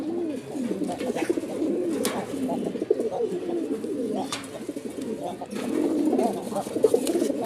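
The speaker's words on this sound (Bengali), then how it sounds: "ওই দেখেন দর্শক, নর ডাকতেছে।" A male pigeon with a white chest and tail coos repeatedly in close, rolling, throaty bursts. The calls come in an uneven rhythm with brief pauses between them, amid faint background noise.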